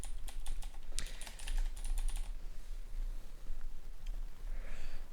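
Rapid bursts of clicky keystrokes on a computer keyboard, clustered in the first half and sparser afterward, close and fairly quiet over a steady low hum with no talking.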